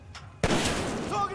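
A sudden loud burst of gunfire erupts in Titanfall 2 after a quiet moment, followed by a sustained roar of shots and combat noise.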